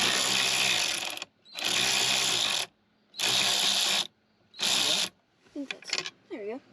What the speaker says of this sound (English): now she'll take out the two up here using our electric ratchet here